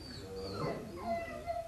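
A puppy whimpers softly in a few short, wavering whines during an at-home obedience session, close to the listener and heard alone between training commands.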